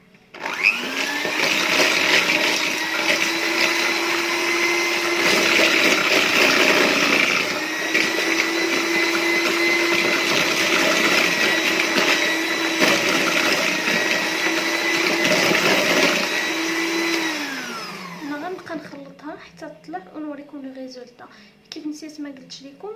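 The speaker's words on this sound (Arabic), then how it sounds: "كنبداو نخلطوها 5 à 10 مينوت حتى كتطلع لنا كتولي عندنا اون كريم قاصحه" Electric mixer whipping cold milk cream with sugar for a birthday cake, a loud steady motor whine running almost continuously before cutting off, followed by faint scraping clinks.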